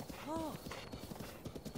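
Horse hooves clip-clop in The Legend of Zelda: Breath of the Wild, a quick run of soft rhythmic steps with a short neigh near the start, fairly close and moderately loud.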